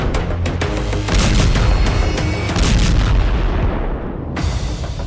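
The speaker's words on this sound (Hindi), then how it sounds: "हेलफायर के धमाके से दहल गई पुतिन आर्मी।" Heavy artillery fire and explosions from war footage, with repeated deep booms and blasts that keep the level loud and dense throughout, with no speech.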